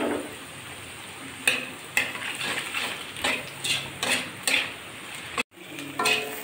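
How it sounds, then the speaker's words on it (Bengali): Eggs are fried together with potatoes and chopped green chilli in a pan. A steady sizzle runs underneath while a spatula scrapes and knocks in a regular rhythm, briefly cutting out before the stirring resumes. "এবার আমি ডিম 2টো আলুর সঙ্গে মিশিয়ে নিয়ে ভালো করে একটু ভেজে নেব।"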